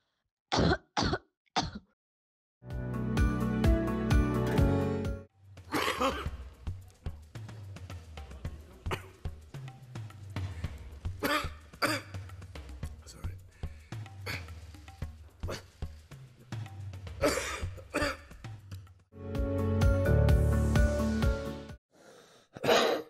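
A person with COVID-19 coughs repeatedly, harsh throat-clearing coughs in clusters with wheezy breaths between them, close and loud, with no talking.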